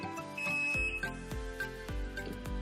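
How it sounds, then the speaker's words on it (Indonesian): A short series of electronic beeps from a Denpoo DWF-073 HT single-tub washing machine, repeating at a steady rhythm of about one every half second, fairly quiet and close. "dia udah nol dan ada bunyi bip"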